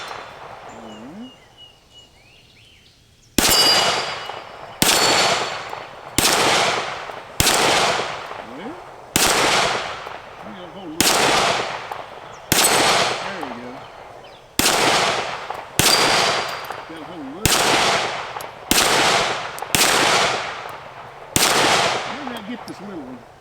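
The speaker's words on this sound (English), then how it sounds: "Let's just do a little bit of shooting here." A Springfield Echelon pistol fires at targets, about fifteen sharp, loud shots spaced roughly a second or two apart, each followed by a short ringing decay, after a few quiet seconds at the start.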